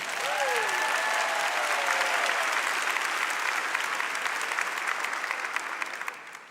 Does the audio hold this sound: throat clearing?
no